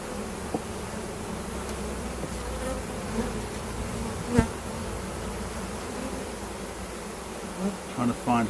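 Honey bees buzzing steadily and densely around an open hive during a Flow Hive inspection, a continuous close drone with a few faint knocks and handling sounds.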